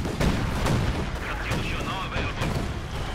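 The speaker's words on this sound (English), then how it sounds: "An artillery strike and some bombing runs." Artillery strike in the video game Company of Heroes 2, a run of heavy booms and gunfire thuds rolling together, loud and continuous for about three seconds.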